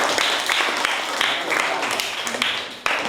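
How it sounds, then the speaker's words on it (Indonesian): A classroom of students clapping together in a steady burst, with slightly rhythmic group patter that holds at an even, fairly loud level for a few seconds. "Ya, berikan tepuk tangan."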